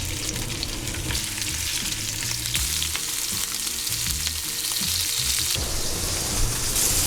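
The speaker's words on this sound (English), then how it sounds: "I'm just gonna go in with some avocado oil to start. We're gonna get a quick sear on this wahoo." Wahoo fillets searing in avocado oil in a hot pan, a loud, continuous close sizzle and crackle of frying throughout, with no talk.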